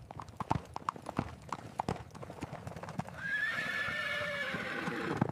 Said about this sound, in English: the girl is riding a horse, she stops and waves